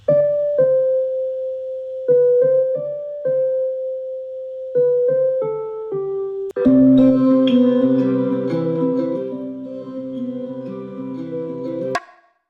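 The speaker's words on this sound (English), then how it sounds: "I just played in these Rhodes chords to layer on top of everything" A mellow Rhodes electric piano plays short, soft chords, then a fuller, sustained chord rings out alone with a warm, bell-like tone.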